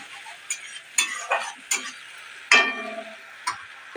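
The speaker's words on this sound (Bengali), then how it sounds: "দিয়ে আর একটু ভালো করে নেড়ে চেড়ে ভেজে নেব, মশলাটাকে" Tomato, green chilli and cumin paste fries in a pan while a spoon scrapes and stirs it, giving several sharp knocks and brief sizzling bursts spread unevenly over a faint background.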